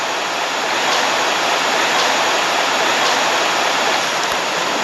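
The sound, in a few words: water pouring down from a tree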